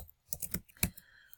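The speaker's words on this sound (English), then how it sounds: "you would start typing" A computer keyboard clatters in a short, uneven burst of keystrokes, close and fairly soft, followed by a pause and one last light tap.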